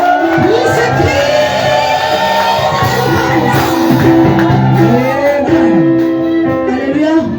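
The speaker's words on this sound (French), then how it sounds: "pousse des cris de délivrance." Church congregation shouting cries of deliverance, a dense crowd of many voices yelling and whooping together, loud and sustained with overlapping wavering cries.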